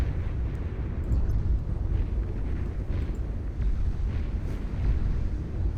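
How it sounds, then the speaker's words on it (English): Twin cannons on a Dreadnought unit firing in the strategy game Beyond All Reason, a continuous low, rumbling barrage of heavy booms that holds steady throughout without any talk. "Firing away with twin cannons."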